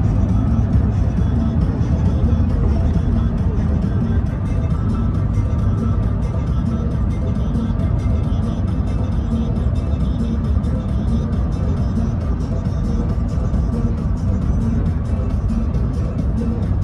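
Cars drive on a highway in a continuous loud roar of tire and engine noise, a steady rushing drone with no break across the whole stretch.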